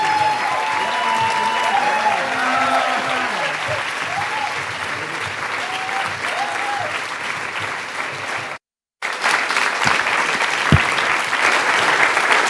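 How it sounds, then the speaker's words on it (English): A large audience at a live conversation event breaks into rousing applause, loud sustained clapping and crowd noise with cheering tones early on, briefly cut off, then resuming just as full. "So come on out and give them a rousing round of applause."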